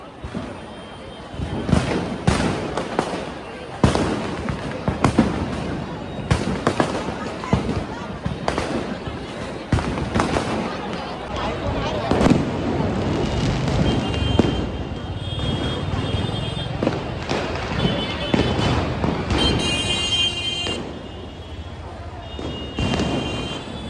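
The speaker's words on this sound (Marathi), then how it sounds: "आपल्यासमोर असं एकदम डोक्यावरती ते फटाके फुटत होते" Diwali fireworks bursting overhead at Shivaji Park in a rapid string of loud, sharp bangs and crackles, with a crowd talking and cheering underneath.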